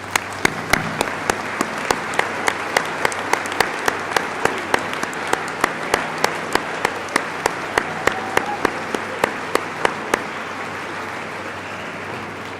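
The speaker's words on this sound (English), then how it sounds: "let's show our appreciation with a round of applause" Steady applause from an audience at a college graduation ceremony fills the room, dense and even for about ten seconds before tapering off.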